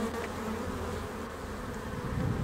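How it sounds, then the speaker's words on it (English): A swarm of honey bees leaving an overcrowded hive, heard as a steady, dense buzzing drone that holds evenly throughout with no voices. "A honeybee colony will swarm, that is, leave the hive, when the hive has become too full."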